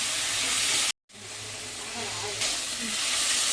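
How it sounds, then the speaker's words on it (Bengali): Elephant foot yam stalks frying in a pan give a steady, close sizzle and hiss, broken by one brief silent gap before the sizzling resumes. "তাহলে একটু ভেজে নিই।"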